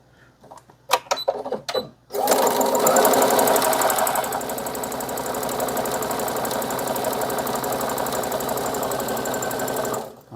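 A sewing machine stitches a bag strap, starting with a few sharp clicks and taps, then settling into a loud, steady mechanical whir that runs without a break for about eight seconds before stopping.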